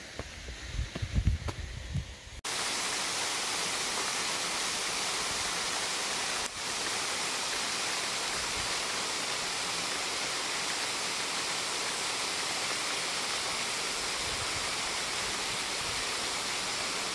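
Broadband rushing of water at Tullibont Waterfalls, a steady loud roar filling the clip after a brief muffled, handled opening, with no voices.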